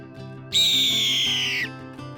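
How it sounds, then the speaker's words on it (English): A hawk's call, a single sustained high screech about a second long, loud and alone over a quiet repeating musical backing. "Hawk."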